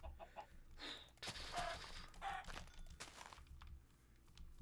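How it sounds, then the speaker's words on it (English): Minecraft chickens cluck and squawk as they are hit and killed, with quick, faint bursts of clucking and a few sharp hit sounds in a quiet game scene. "Let's kill some chickens. Damn, that chicken got owned."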